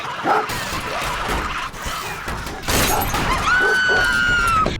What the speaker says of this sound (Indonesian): Anjing Ellie terus saja menggonggong.